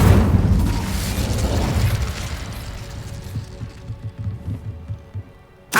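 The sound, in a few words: Incendio fire spell blast, from video game Hogwarts Legacy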